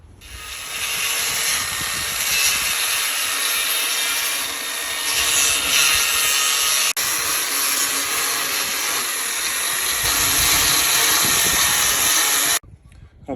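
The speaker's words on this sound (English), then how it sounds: "I'm gonna sand it off lightly to get all the little burrs off" A carved wooden sign is sanded lightly to remove burrs, a loud continuous close-up rasping scrub with a steady rhythm that stops abruptly near the end.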